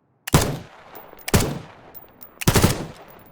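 Designed gunfire for the Bruin LMG, an open-bolt light machine gun: three sharp, loud, close shots spaced about a second apart, each with a brief click at the onset and a short decaying tail.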